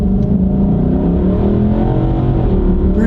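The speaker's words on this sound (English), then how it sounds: "We'll see what the engine could still do." Nissan car engine accelerating hard, a loud continuous rising roar with dense low harmonics and steady revving, heard close up from inside the car with no talking.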